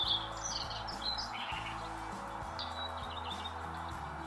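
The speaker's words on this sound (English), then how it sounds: "you have to just listen to the sounds of these birds first" Birds chirp and tweet in short bright bursts against a steady background drone and low hum, moderately near and alone without talk.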